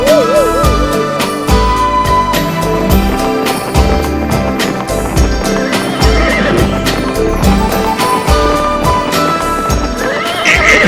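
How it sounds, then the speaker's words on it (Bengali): A cartoon horse neighs and whinnies with clip-clopping hooves, loud and repeated over busy background music. "আমার ঘোড়াটা এমন চেঁচাতে শুরু করলো কেন?"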